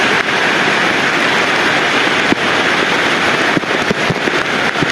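Heavy rain pouring down during a flood in Makassar, a dense steady roar of water with scattered sharper splashes and spatters throughout, loud and continuous with no voices.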